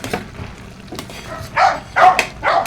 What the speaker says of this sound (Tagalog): gutom na yung aso namin. Nagtatahol na.